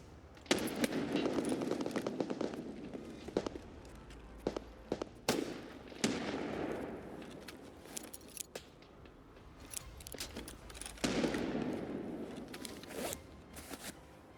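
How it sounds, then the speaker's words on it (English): Distant grenade blasts thump and crack across a depot in a tactical shooter, mixed with scattered sharp gunshots and rustling movement, irregular and moderately loud, with no speech. "I can also hear grenades being thrown on the opposite side of the depot that I'm at"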